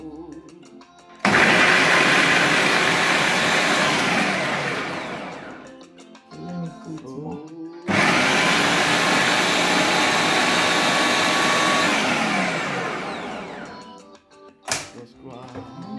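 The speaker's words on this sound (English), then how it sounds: "First, I'm going to blend the carrot." A kitchen blender whirs loudly while chopping carrot, running in two long bursts of roaring motor noise that slow and wind down between them, with brief pauses of clattering and faint handling.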